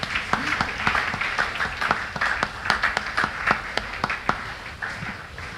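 Scattered audience clapping follows a health talk on blood pressure, with distinct individual claps popping out in an uneven rhythm from a modest crowd, fairly close and lively.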